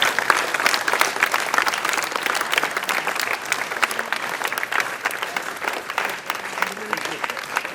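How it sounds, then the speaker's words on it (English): Old boys back on campus for a school's special assembly receive a long, loud round of applause, with many hands clapping in a dense, even patter throughout. "So a round of applause for all our heroes who are back on campus."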